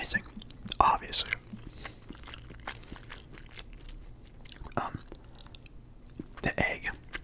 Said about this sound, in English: oh man, it's a lot to chew.